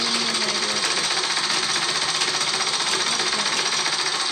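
Sewing machine stitching the fall onto the edge of a sari, a steady, close, continuous mechanical whir at an even pace with no pauses, heard on its own without talking.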